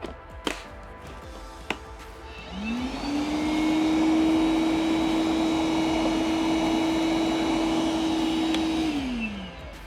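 After two faint knocks, a Milwaukee M12 Fuel 1.6-gallon wet/dry vacuum on low speed spins up and holds a steady, close whine while sucking up sawdust, then winds down about six seconds later.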